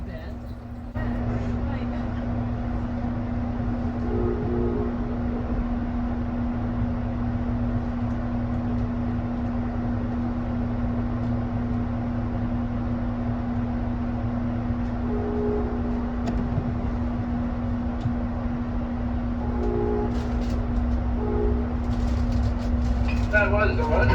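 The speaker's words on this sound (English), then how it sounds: "Our first station stop was Pontiac, with no passengers scheduled to get on or off." Amtrak Wolverine passenger train pausing briefly at Pontiac station, heard from on board: a steady low rumble and hum of the stationary train with a constant tonal drone throughout, soft onboard sounds and faint voices in the background.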